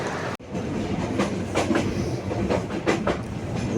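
A passenger train runs on rails on a night journey toward Sylhet, its wheels giving a steady clickety-clack rhythm of repeated knocks over a continuous rumble, heard from inside the carriage without talking.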